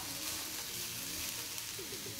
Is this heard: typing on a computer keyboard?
no